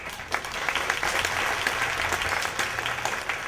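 An audience at a stand-up comedy show claps in steady, dense applause that fills the whole moment at an even level, with no voices over it.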